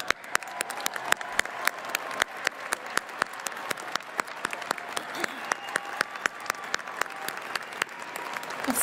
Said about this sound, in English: so we can give you all a round of applause